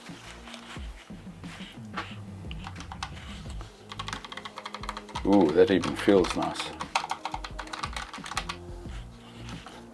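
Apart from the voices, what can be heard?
typing on Keychron K1 low profile mechanical keyboard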